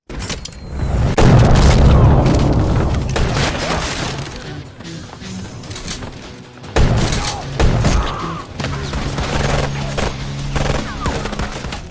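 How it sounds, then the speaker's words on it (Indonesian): Gunfire trades back and forth in an action film. Heavy booms and rapid volleys of shots crash loudly, with a brief lull in the middle before the barrage resumes. "Baku tembak pun berlangsung dengan sengit."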